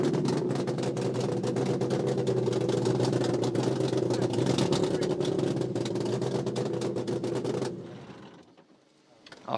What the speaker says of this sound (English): Francois, the car sounds awful. The manifold again